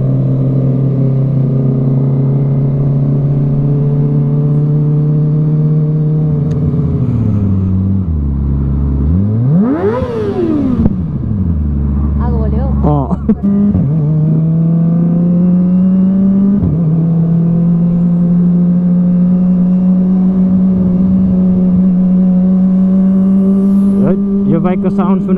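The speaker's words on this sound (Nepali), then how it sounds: "बाइकको साउन्ड सुनेर हिँड्न मजा आउने रहेछ" A Kawasaki ZX25R motorcycle engine drones steadily while being ridden slowly, its tone dipping and rising briefly as the revs shift. A voice talks over it throughout.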